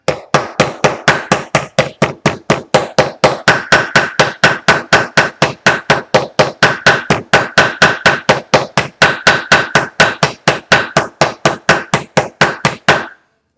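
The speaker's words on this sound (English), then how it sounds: "Got my ball peen hammer." A ball peen hammer mushrooms a clipped rivet post over a washer on a roll-top rucksack, a long run of about fifty sharp, even metallic taps striking at a steady fast rhythm, close and loud with no talking.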